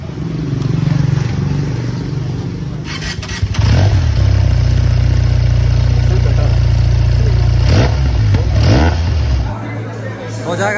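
A Benelli 302 motorcycle engine rumbles loud and close, idling steadily and then revving up in surges while people chatter nearby.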